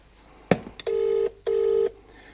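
A loud click, then two long steady telephone ring tones with a short gap between them, each sounding like a ringback signal on an otherwise quiet line.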